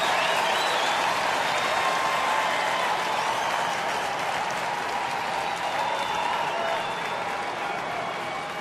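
A baseball stadium crowd of about 42,000 at a Rockies–Tigers game in Detroit applauds in a sustained, dense roar of clapping heard from within the stands, holding steady for several seconds.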